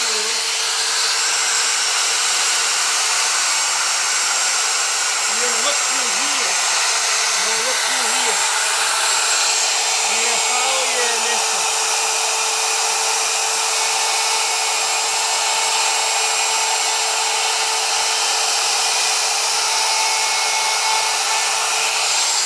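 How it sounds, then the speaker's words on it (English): An electric wood router cutting a wooden sign, giving a loud, steady high-pitched whine that holds throughout without letting up, with a faint voice briefly underneath. "now I'm going to router the sign"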